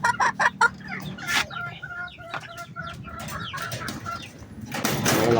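Gamefowl chickens cluck while eating, with repeated short clucks and pecking sounds close by and some rustling, and a louder flurry of noise at the end.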